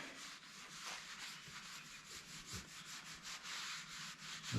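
A thin layer of oil is rubbed across a flat-top griddle to prevent rust, a continuous soft scrubbing and wiping sound, close and fairly quiet, with slight rhythmic swells as the cloth moves.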